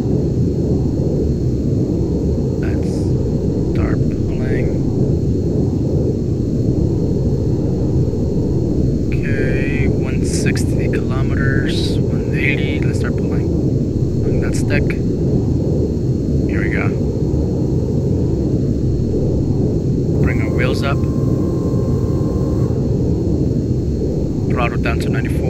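An A-10C ground-attack jet rolls down the runway and takes off in the game ArmA 3, a loud, steady engine roar that fills the whole stretch, with brief radio-like chirps and a voice over it.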